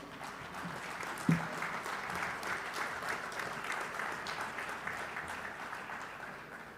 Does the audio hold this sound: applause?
yes